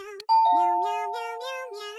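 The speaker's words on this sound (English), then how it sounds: "Chucky arrives at Kitten's house and rings the doorbell." A doorbell sounds once with a bright electronic chime, its tone ringing out and slowly fading over a quiet background.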